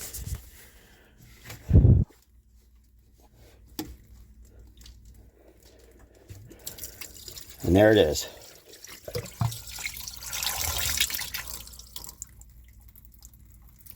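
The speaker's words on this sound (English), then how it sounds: "let that water drip down into the hull" Water drips and splashes into a boat hull in short bursts during impeller maintenance on a 1999 Mercruiser 454, with someone speaking briefly between them, close by in a quiet space.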